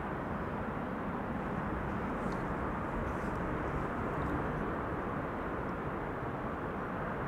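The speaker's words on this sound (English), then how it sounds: "More wide bodies coming in." Wide-body airliners such as an A340, a Boeing 747 or an A380 arrive at the airport amid a continuous, far-off jet roar, broad and steady, with no voices.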